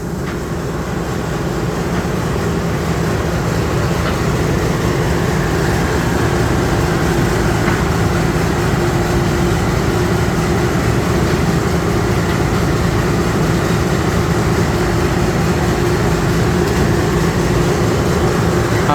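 A rice combine harvester's engine runs at steady high revs, a loud, continuous droning roar up close that barely changes over the whole stretch, with no voices over it.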